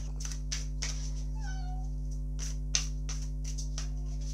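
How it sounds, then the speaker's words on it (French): A cat gives one short, rising-then-falling meow in a quiet room, set against a steady low electrical hum and scattered soft clicks and taps. "Ah, c'est ma Scarlett, c'est mon chat."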